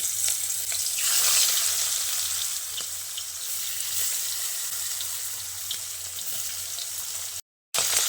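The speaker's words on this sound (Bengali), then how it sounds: "এবার কড়াই গরম করে দিয়ে দিচ্ছি সর্ষের তেল। তেল ভালো করে গরম করে নিয়ে এবার এর মধ্যে ম্যারিনেট করা ফলি মাছগুলো দিয়ে দিচ্ছি।" Marinated foli fish fry in hot mustard oil in a kadai with a bright, steady sizzle, swelling briefly early on and then settling, alone and close before a short cut near the end.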